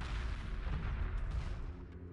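Ion cannon fire in the space strategy game Homeworld Remastered, a dense, continuous booming roar of heavy energy weapons and impacts filling the whole stretch at steady loudness.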